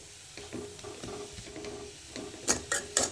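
Carrot palya is stirred in a pan, with soft scraping and light sizzling at a low level, ending in a few sharper clinks of the utensil against the pan.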